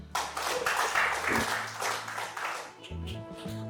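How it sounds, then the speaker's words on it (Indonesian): Audience applause at an Indonesian open doctoral defense ceremony in Makassar, moderate clapping from a room of guests, with talk and a held tone breaking in toward the end. "Tepuk tangan lagi."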